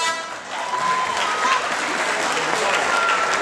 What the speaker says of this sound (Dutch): eerst wil ik een applaus voor beide vechters.